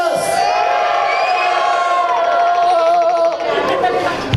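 Outdoor show crowd in Natashquan cheering and whooping for the young people, a loud sustained wash of shouts and cheers with overlapping voices throughout.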